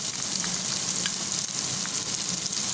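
Steady, close sizzling of ginger-garlic paste frying in a hot pan with softened ingredients, a continuous crackling hiss with faint stirring scrapes.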